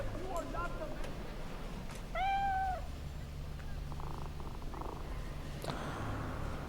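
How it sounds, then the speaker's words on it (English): A cat in the video game Cyberpunk 2077 purring softly under a low droning backdrop, with a couple of short meows and brief chirping sounds, faint and close. "Purrs louder the second time."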